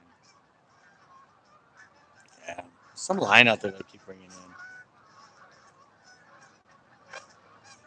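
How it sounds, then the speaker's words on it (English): Wild geese honk loudly in a brief burst overhead at a lake at dusk, with a few fainter calls before and after, while someone talks quietly nearby. "Geese are coming. Can you hear them?"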